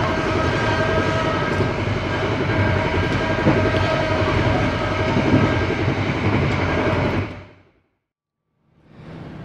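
Mutiara Timur economy-class train rolling into Kelakah station: a steady, loud rumble of wheels and carriage noise that runs without a break for about seven seconds, then drops away sharply to near silence before the sound picks up again.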